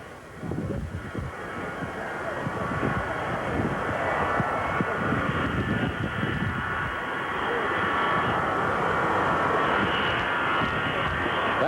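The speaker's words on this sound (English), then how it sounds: "It's another jet approaching now." A jet airliner approaches Love Field in Dallas, its engine roar a broad, steady rumble that swells and grows louder over about twelve seconds, mixed with wind buffeting on the microphone.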